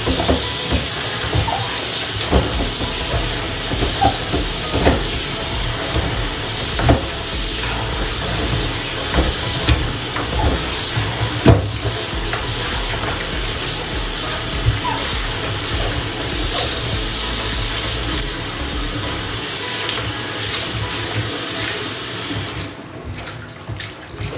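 Tap water runs steadily over salted cabbage being rinsed for kimchi in a sink, a continuous close splashing hiss with small clinks and knocks, ending abruptly as the flow is cut near the end.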